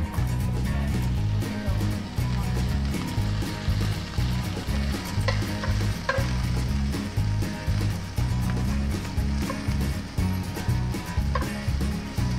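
Robin meat seasoned with salt and pepper fries in a pan, a steady sizzle under continuous background music.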